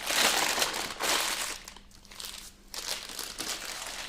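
A plastic piping bag filled with ganache crinkles and rustles in close, uneven bursts as it is handled, with a quieter pause partway through.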